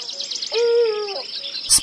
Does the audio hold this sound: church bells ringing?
no